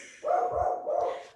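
A dog barks in a short burst, two loud close yaps run together into a strained, whining bark lasting about a second.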